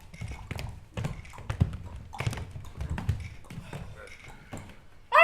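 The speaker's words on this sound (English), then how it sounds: "borrowing horses from a nearby village, they rode back to Baghdad to confront Omar" Horse hooves clip-clop as a theatre sound effect during a stage performance, steady rhythmic taps repeating at close range across the scene, with a brief louder burst at the end.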